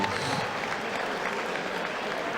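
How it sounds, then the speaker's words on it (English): Boxing crowd at a Sheffield fight night applauding both boxers after a six-round bout, a dense, continuous wash of clapping and crowd noise filling the hall. "could we please have a big round of applause for both of our boxers"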